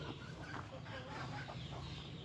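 Native desi chickens cluck and murmur continuously in the background, a busy farmyard flock heard at moderate distance with no clear single call standing out.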